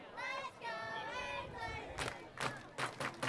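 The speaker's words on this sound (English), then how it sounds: "Let's go Anglers coming from the crowd" Baseball crowd at a Chatham Anglers home game against the Wareham Gatemen chanting in rhythmic bursts, voices rising together in repeated swells at moderate distance, following a stretch of steady murmur.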